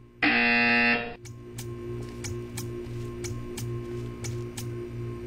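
A loud, steady electronic buzzer tone in the video game Portal 2 sounds for about a second, then gives way to a quiet hum with a regular ticking pulse.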